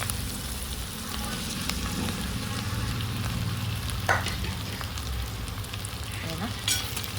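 Soaked poha for kanda pohe frying in a pan with onions and coriander, a steady close sizzle with scraping stirs and a couple of sharper clinks of the spoon against the pan.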